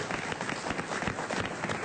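Studio audience applause on a French talk show, a steady patter of many hands clapping at moderate volume, filling the whole moment without pause.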